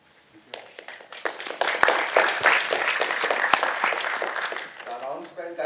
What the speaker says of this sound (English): I also get some clap, right?